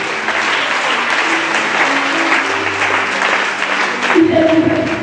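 A church congregation applauds steadily and loudly throughout, a dense wash of clapping with a few voices and tones rising underneath near the end.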